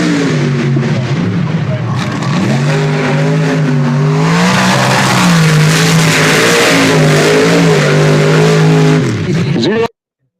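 A racing truck's engine revs loudly and close by, rising and falling in pitch through repeated throttle swells over ten seconds, then cutting off abruptly, with people talking underneath.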